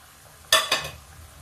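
A spoon stirs a tomato masala as it fries in a pan for spinach chana dal tadka. Two quick scraping sizzles sound close against a faint background.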